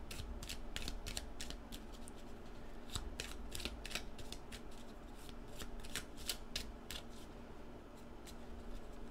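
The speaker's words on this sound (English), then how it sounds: "while I'm shuffling, I just want to mention" Tarot cards shuffled by hand in a steady run of crisp, close riffling flicks, repeated throughout over a low background hum, with no talking.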